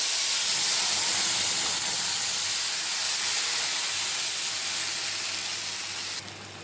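Ground spice paste hitting hot oil while making a Bengali fish curry with beans, a loud close burst of hissing sizzle that holds steady and eases slightly toward the end, no voices.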